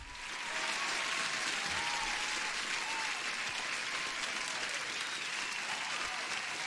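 Steady, dense applause from a large crowd plays as a sound effect during a livestream, rising quickly and then holding at an even, loud level throughout.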